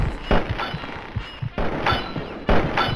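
Gunfire in Fallout 3 as three loud, sharp bursts roughly a second apart, each leaving a ringing tail, with softer thumps and clatter in the gaps between them.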